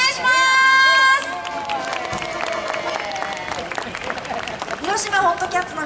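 An audience claps and cheers for a New Orleans-style jazz band after a brief sustained musical note; the clapping runs steady and moderately loud with crowd noise mixed in.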